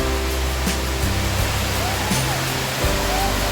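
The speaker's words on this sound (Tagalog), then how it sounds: "ang isa sa mga pinakamaganda dito yung falls oh" A waterfall at a resort pours in a constant, dense, hissing rush close by, with faint tonal hums beneath.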